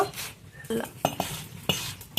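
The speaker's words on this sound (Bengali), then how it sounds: "এখন তেল ছাড়া শুকনো মরিচগুলো আমি ভেজে নেব।" Dry red chillies roasted without oil on a clay griddle, tossed with a utensil that gives sharp, irregular clinks and scrapes against the surface over a faint dry crackle, close and fairly loud.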